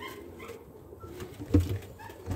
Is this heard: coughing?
no